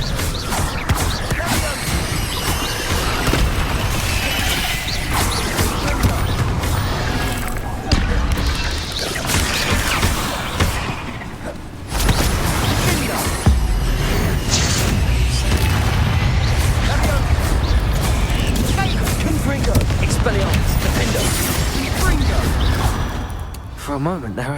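Bombarda and Confringo spell blasts in Hogwarts Legacy combat: repeated booms, crashes and bursts packed into a dense, loud stream of game effects and music, with shouted voices over the fight.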